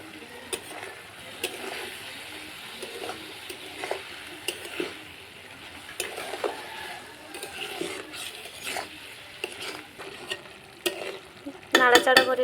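Spinach, potatoes and tomatoes cook in a pan over low heat while a spoon stirs them, giving soft scraping strokes and a gentle sizzle with a brief clatter at the end.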